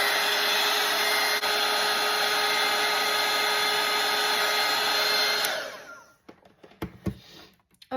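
A hair dryer blows steadily over a wet watercolor rabbit painting, a loud continuous close whoosh that cuts off near the end, leaving faint rustles and small clicks.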